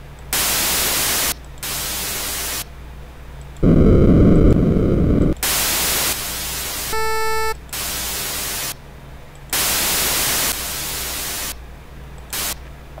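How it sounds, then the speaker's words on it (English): Harsh, grating static noise effect in repeated loud bursts with abrupt cuts, alternating with a roaring wideband blast and a brief stepped tonal burst, all mixed over a steady low mains-like hum. "I want to have a noise sound in here"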